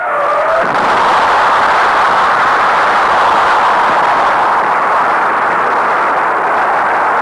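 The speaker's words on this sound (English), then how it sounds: "10, 9, 8, 7, 6, 5, 4, 3, 2, 1. Ignition." A Gemini rocket engine ignites and roars through launch, a loud, continuous, broadband rumble that starts abruptly and holds steady throughout.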